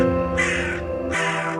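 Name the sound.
crow cawing in a story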